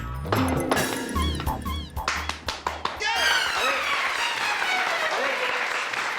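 People in a sitcom courtroom scene clap in a quick, scattered burst of sharp hand claps that fades into mixed voices and noise.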